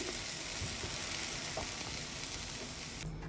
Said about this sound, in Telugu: గోంగూర అయితే ఆయిల్లోని ఫ్రై అయిపోయింది